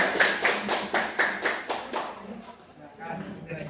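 About eight quick, even hand claps from a small group in a classroom-style setting, then fading into background murmuring and voices.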